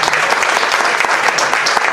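An audience applauds loudly and steadily at a Lorca tribute poetry reading, a dense patter of many hands clapping close by, with no speech over it.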